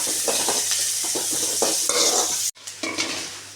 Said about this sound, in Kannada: ಬೆಳ್ಳುಳ್ಳಿ ಸ್ವಲ್ಪ ಕೆಂಪಗಾಗಿದೆ ಈಗ ಅರ್ಧ ಈರುಳ್ಳಿ ಮತ್ತು ಇದರಲ್ಲಿ ಕರಿಬೇವು ಉಂಟು ಇದು ಸ್ವಲ್ಪ ಫ್ರೈ ಆಗಲಿ